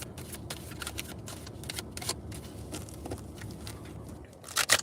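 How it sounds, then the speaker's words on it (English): Tarot cards being shuffled by hand, the old-fashioned way, a steady papery riffling and patter that runs the whole time with a louder burst of cards at the end. "so I'm gonna shuffle old-fashioned"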